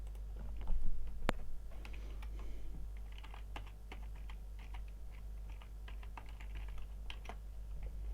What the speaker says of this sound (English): Type our function in any cell, enter the parameter and press the OK button.